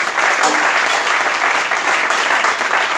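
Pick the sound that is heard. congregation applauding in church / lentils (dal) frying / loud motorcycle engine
congregation applauding in church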